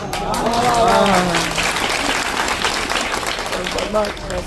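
Crowd applause at a Hindi-Urdu poetry gathering, dense clapping that stays strong across the clip while a voice speaks over it near the start and end.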